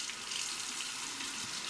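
Water runs steadily from a tap while a shaving razor is rinsed, giving a continuous close hiss and splash with no break and no talking.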